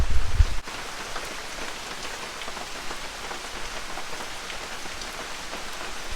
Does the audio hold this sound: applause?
no